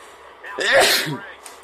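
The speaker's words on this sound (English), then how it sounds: "Sorry, I needed to sneeze." One loud, close sneeze bursts out suddenly and trails off, standing alone against a quiet background.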